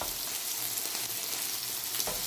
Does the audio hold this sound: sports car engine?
no